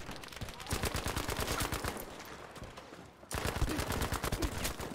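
Rapid automatic gunfire rattles from a shooter video game, loud bursts in dense succession with a short break before firing resumes.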